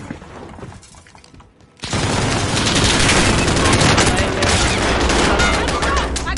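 Sustained loud rapid gunfire in the video game Warzone, a dense continuous barrage kicking in after a quieter stretch and running to the end.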